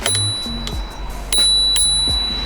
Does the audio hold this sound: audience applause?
no